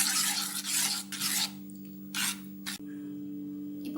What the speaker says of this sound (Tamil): இப்போ நம்ம செஞ்சு வச்சுருக்கிற அந்த ரவா மிக்ஸ் எடுத்து இந்த எக்கில் ஆட் பண்ணி கொஞ்சம் கொஞ்சமாக விட்டு கலக்கிட்டே இருக்கணுங்க